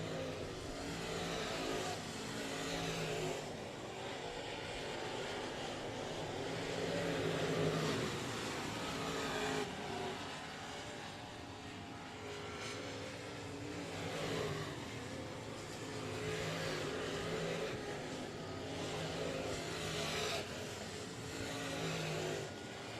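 Race cars circle an oval speedway at the 67 Speedway of Texarkana, engines roaring continuously at a distance with rising and falling waves as the pack passes, loud and sustained without a break.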